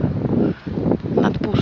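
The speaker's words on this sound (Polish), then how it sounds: "Strasznie wieje" Heavy, steady wind buffeting the microphone in a low continuous roar, with brief lulls.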